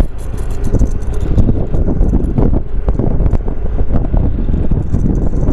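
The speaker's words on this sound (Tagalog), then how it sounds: "Mahangin na lang dito." Steady, loud wind buffeting the microphone on a seaside dike near fish ponds, a constant roar with gusty low rumble and no voices.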